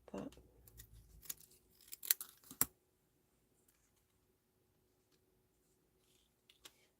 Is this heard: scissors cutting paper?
yes